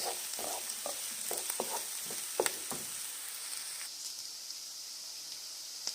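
Menemen ingredients are stirred in a frying pan at an outdoor camp dinner: a soft sizzle under a run of close spatula scrapes and taps for the first few seconds, then a quieter steady hiss alone.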